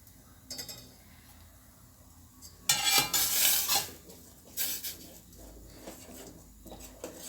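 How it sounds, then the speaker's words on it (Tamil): A spoon scrapes and clatters against a metal pot while stirring ragi porridge, in bursts of stirring, with a soft bubbling simmer underneath, close and fairly quiet. "நல்லா கொதிக்கணும் நல்லா கொதிக்க நல்லா கிண்டிக்கிடுவோம்"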